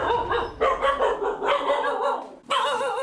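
Several puppies from a litter of six bark repeatedly in an indoor rural home, a busy overlapping stream of yips and barks with brief gaps, loud and close.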